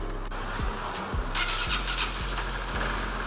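A Honda CB150R motorcycle engine cranks several times with repeated short starter bursts, then catches and settles into a steady, faint idle.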